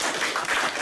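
A brief burst of audience applause, a dense patter of many hands clapping at once, heard close and steady for under a second at a speaking event.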